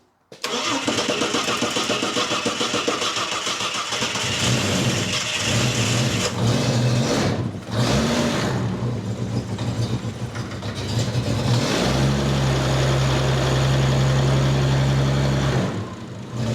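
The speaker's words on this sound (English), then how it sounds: "The next step was to see if we could get the car to run for a bit longer than a second" An old barn-find car engine cranks and catches, then runs roughly and unevenly near the microphone for over fifteen seconds, with a brief dip mid-run and a steadier, louder idle toward the end.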